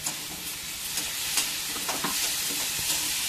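Onion frying in oil in a pan until pinkish gives a dense, close sizzling hiss, with stirring scrapes and small pops over a steady bed of crackle.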